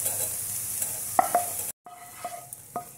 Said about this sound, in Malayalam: ചേർത്തിട്ട് നന്നായിട്ട് ഇളക്കി കൊടുക്കണം.